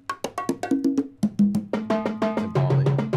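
A quick series of hand-struck conga hits, open resonant tones in a steady rhythmic pattern, close and clear.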